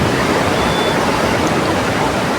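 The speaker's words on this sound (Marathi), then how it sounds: "हा बघा समुद्र पूर्ण खवाललाय, पाणी जाम करणं." Rough, churning Konkan sea with strong currents roars as a dense, steady wash of surf, loud and continuous with no voices.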